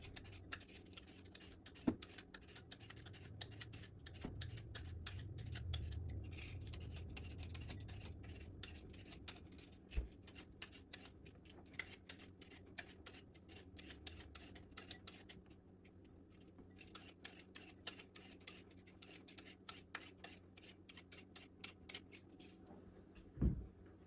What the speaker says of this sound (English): it's gonna be a lot easier if we peel it first. So I'll start with the sweet potatoes.